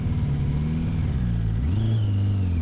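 A Kawasaki Voyager XII motorcycle engine pulls away in gear, its close rumble rising in pitch as it revs up, with no talk.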